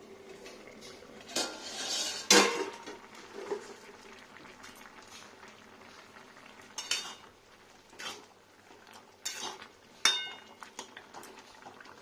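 A lid is lifted off a covered metal plate of steamed bhindi, ridge gourd and boiled potato with a sharp metallic clatter, followed by scattered clinks and utensil taps against the dish.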